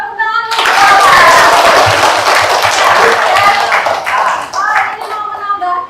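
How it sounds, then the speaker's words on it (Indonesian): A classroom audience claps hands together during a still-life drawing lesson, a dense burst of applause starting after a brief pause and lasting several seconds, with voices and cheering mixed in. "Ya, tepuk tangan dulu."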